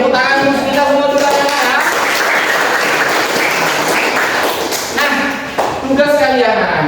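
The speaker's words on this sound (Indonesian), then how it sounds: "Oke, tepuk tangan untuk kita semua juga ya" Students clap together in a classroom, a dense burst of applause with thumps and shuffling, broken by a teacher's voice at the start and end.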